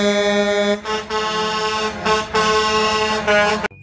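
A tow truck sounds its horn in several long, loud, brassy blasts separated by short gaps, close by and with no talking.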